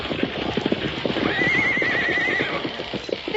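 Horses neigh and hooves clip-clop steadily in a radio drama Western, with a long whinny rising over dense, continuous hoofbeats close at hand.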